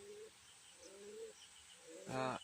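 A Cappuccino pigeon pair gives soft, low cooing calls nearby, with a brief louder rising coo near the end and no talk.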